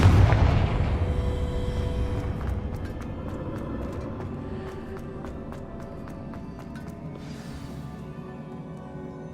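Confringo blasting-spell explosions in the Hogwarts Legacy video game, a heavy boom at the start followed by a long rumbling decay and a scatter of crackling, sharp bursts, all close and loud with no talking.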